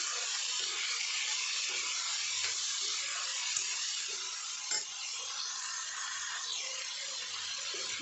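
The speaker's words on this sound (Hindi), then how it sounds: "इसको पकने तक चलाते रहेंगे" Ivy gourd cooks with turmeric and salt in a pan over low heat, giving a steady soft hiss and sizzle throughout, broken by a faint scrape of stirring near the middle.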